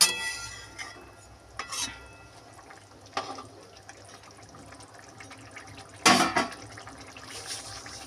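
Yogurt being stirred into a curry in a pot, with soft, sparse spoon scrapes and light clinks and one louder burst of stirring, fairly quiet overall.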